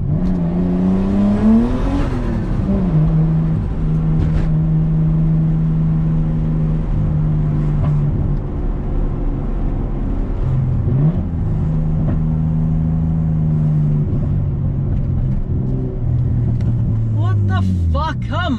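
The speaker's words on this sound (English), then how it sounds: "Let's go for a test drive in these seats." A Nissan Skyline R33 with an RB25DET turbo engine of about 400 hp drives on a test run, its engine droning and rising through revs and gear changes from inside the cabin, loud and continuous.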